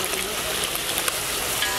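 Egg frying with cauliflower in hot oil gives a steady, close sizzle and crackle with a few small pops, even in level the whole time, and no one speaks over it.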